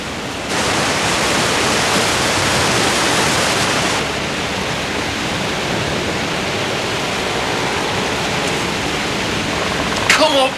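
Water rushes hard through a mill sluice, a loud, dense, continuous roar that surges up early, steadies and holds, with a faint voice-like sound near the end.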